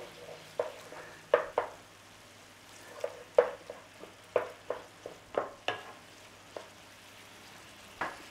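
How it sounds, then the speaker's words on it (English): Tomato puree is stirred into a frying meat pie filling, giving a soft, low sizzle with a series of sharp spoon taps and scrapes against the pan at irregular intervals. "Give that a little stir through."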